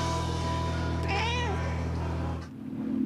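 Smokey, a firehouse cat, lets out a single drawn-out wavering meow over a steady low mechanical hum, then the hum cuts off.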